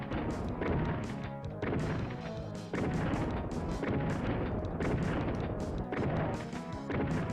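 Heavy gunfire booms in the video game DOOM, a rapid run of loud thudding blasts that keep pounding with hardly a pause and no voices over them.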